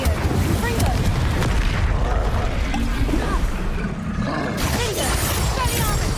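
Confringo and Incendio spell blasts in the Hogwarts Legacy video game make loud, continuous roaring booms and fiery bursts that briefly drop off before surging again, with voices mixed in.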